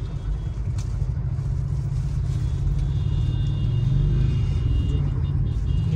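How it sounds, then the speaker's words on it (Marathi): Continuous low road rumble of vehicles moving nearby in heavy traffic near the Ekvira temple fair, a steady engine drone that swells slightly toward the end, with no voices. "बाजूला ट्रॅफिक आहे अजून खूप"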